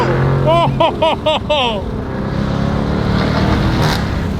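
Car engine revving up and down with a pop from the exhaust, followed by a rougher roaring idle, loud and close.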